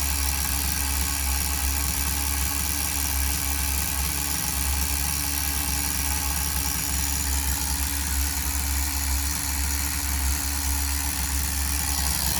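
A Tamiya TGS-R nitro RC engine idles during run-in with a steady, buzzy, continuous drone at an even level throughout. No voices are heard.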